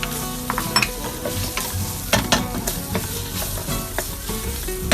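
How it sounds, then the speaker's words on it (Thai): Dried shrimp and shiitake mushrooms stir-fried in a pan over medium heat for Thai moo ba teng, with a continuous close sizzle broken by scraping, clattering strokes of the spatula. "พอผัดได้ที่จนหอมแล้วนะฮะเราก็ลงกุ้งแห้ง กับเห็ดหอม ผัดให้เข้าเครื่องก่อนฮะ"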